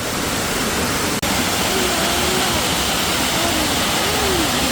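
Dense, steady roar of a waterfall in the Carpathian Mountains fills the whole clip, loud and unbroken apart from one brief dropout.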